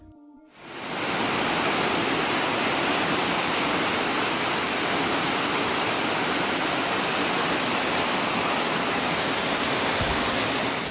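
A waterfall at Eternal Flame Falls in New York gives a dense, steady broadband roar that begins abruptly and holds loud and unbroken for about ten seconds, with no voices.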